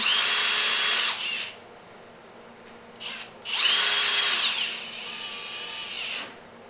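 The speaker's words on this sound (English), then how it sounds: "we've got our electric drill, turn her to tighten." Two loud bursts of an electric drill whining at high speed while tightening a six-jaw lathe chuck, each a second or so long, separated by a quieter hum, then a softer steady motor tone.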